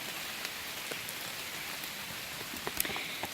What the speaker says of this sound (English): It's starting to rain on me out here.